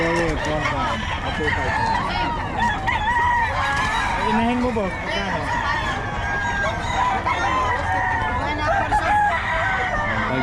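Roosters crow loudly and hens cluck all around, a busy flock close by at a market in Bocaue, while people talk over the racket.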